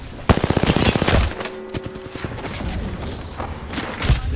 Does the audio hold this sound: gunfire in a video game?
yes